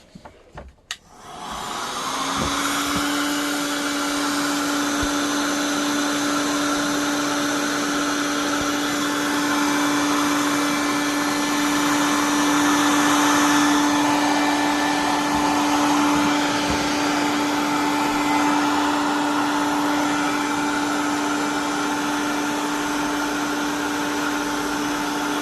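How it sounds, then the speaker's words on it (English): A heat gun blows hot air over heat shrink tubing on a hand-built high-current power cord: a loud, steady airy roar with a constant whine that starts after a couple of seconds and runs unbroken to the end, with no talk. "So now we just need to heat shrink that down."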